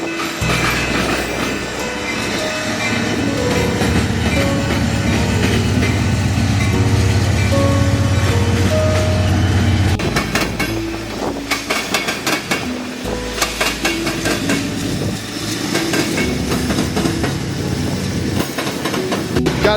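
A northbound freight train with Union Pacific power rolls past close by, a loud continuous rumble of wheels and cars with rhythmic clanking and rattling, then sharper clatter as the cars go by.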